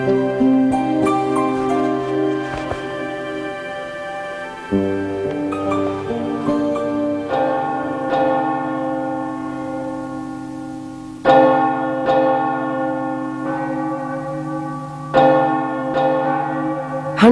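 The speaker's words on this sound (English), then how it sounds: "Church bells were rung for every death. The bells were hoarse with tolling." Church bells toll for the dead in plague-era London, ringing loud and resonant, with fresh strikes every few seconds whose long metallic hum rings on and layers over the previous ones.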